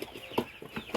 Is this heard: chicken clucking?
yes